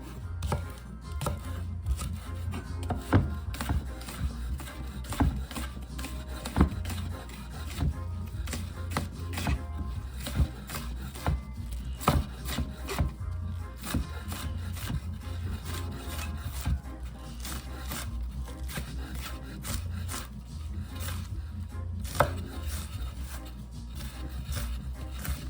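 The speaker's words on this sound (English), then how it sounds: "So let me cut my green onion right away." A knife chops green onions on a board in steady, rapid, close strokes that continue without pause, with no talking.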